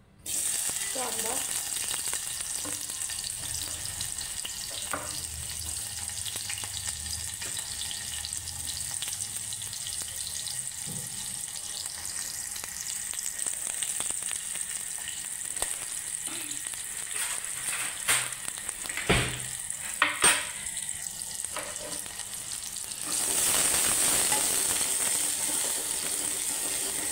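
Onion frying in oil in a cooking pot gives a continuous hissing sizzle for nearly half a minute, with a few clatters near the end and a louder surge of hiss in the last seconds.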